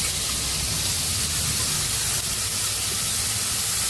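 Potatoes dropped into hot oil with popped mustard seeds and cumin, sizzling loudly in a steady, close, hissing wash with no break.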